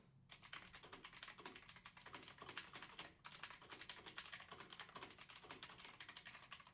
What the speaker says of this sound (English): Sorry if that's really loud, me typing.